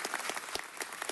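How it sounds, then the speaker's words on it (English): An indoor audience at a Nowruz celebration in LA City Hall applauds, a dense steady patter of many hands clapping throughout the short stretch. "let's give Maury, he's with LA County, a round of applause."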